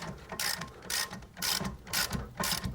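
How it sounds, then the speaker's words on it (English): A ratchet on a 17mm socket tightens the tie rod clamp bolt on a Toyota Landcruiser, giving five close, regular bursts of clicking, each about half a second long with short pauses between. "I'm going to tighten that clamp bolt."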